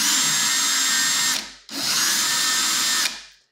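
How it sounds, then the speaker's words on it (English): A power drill bores into plastic in two loud, steady bursts, each winding down as the trigger is released, with a brief pause between them and no talking. "I'm just going to start drilling from here"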